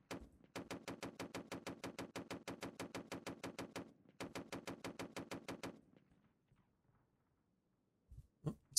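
A machine gun fires in the video game Rising Front in two long, rapid, evenly spaced bursts, loud and close, followed by near silence and a couple of faint, distant knocks.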